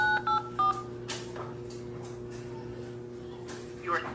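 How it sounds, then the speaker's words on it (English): Telephone keypad tones as a PIN is typed into an automated benefits phone line: a quick burst of three beeps at the start, then a final beep near the end over a steady low hum. "Enter your PIN."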